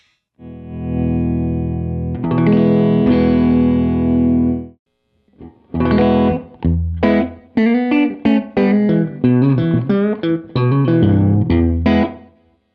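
Electric guitar through an amp with room reverb effect: a long sustained chord rings out, then a run of picked notes follows, each with a washy room tail.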